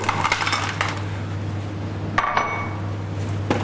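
Ice cubes tumble into chilled spinach soup, giving a few sharp clinks and knocks near the start, then scattered lighter taps against the container, heard close up with a steady low hum underneath.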